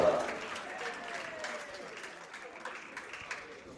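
Applause from the crowd at a darts championship after a leg is won, a steady wash of clapping that fades gradually, with a commentator's voice faintly over it.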